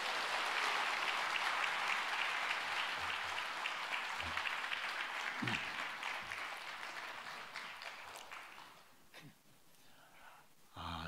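A church congregation at a Sunday revival service claps in warm applause, starting full and steady, then thinning into scattered claps and a few breaths before a last short flurry.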